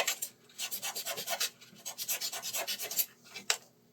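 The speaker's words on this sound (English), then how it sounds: "I'm just using some 320 grit sandpaper." Pen tubes for slimline pens being scuffed with 320 grit sandpaper, a quick, steady run of close, dry rasping strokes, with a brief pause midway.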